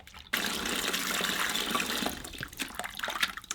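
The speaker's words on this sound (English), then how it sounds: "Alright, just wash the soap out." Water pours steadily from a tap to rinse shampoo from a soaked handspun wool skein. A sudden strong gush runs for about two seconds and then breaks into uneven splashing and dripping.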